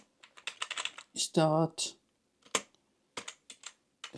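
Computer keyboard keys are typed in short bursts of clicks while a terminal command to start Nessus is entered on Kali Linux, someone speaking briefly over the typing.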